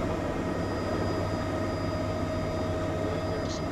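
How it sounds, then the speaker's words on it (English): Steady, loud engine whine of a radio-controlled aircraft throttling up to climb above trees, a continuous dense drone filling the whole moment with no pauses. "just don't mind the throttle up right here"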